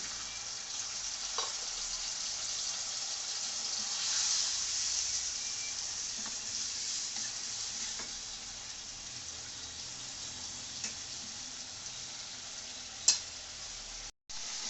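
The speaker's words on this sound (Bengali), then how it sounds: "মাংসটা কষানোর জন্য একটু পানি দিয়ে দিলাম" Chicken meat braises in a pan with a little added water, giving a faint, continuous hiss and simmer, with one sharp knock near the end.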